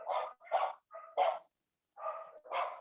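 Several dogs bark in a loose, uneven series of six sharp woofs, fairly close and loud, with brief silent gaps between bursts and no talking over them.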